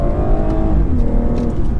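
A 2017 BMW 440i Gran Coupe pulls hard under acceleration, the engine note loud and droning from inside the cabin as its pitch climbs steadily through the gears.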